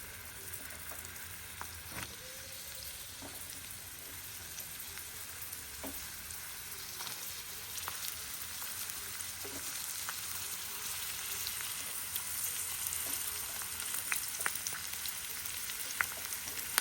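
Onions cut into large pieces fry lightly in oil for kaju masala curry, a steady close crackling sizzle with occasional sharper pops and faint utensil scrapes throughout, no voices.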